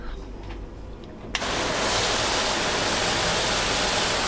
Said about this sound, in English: I'll go ahead and rinse it off with the fan.